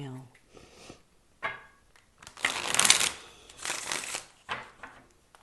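Tarot cards are shuffled by hand at close range in several quiet bursts of riffling and sliding, with short pauses between them.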